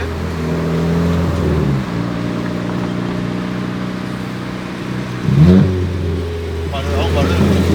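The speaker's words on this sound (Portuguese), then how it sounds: "Mas o carro tá num som espetacular." A stage 2 Fiat Bravo with a 1.8 engine, its steady engine drone changing pitch and rising in short revving bursts, loud and close, with a voice speaking over it.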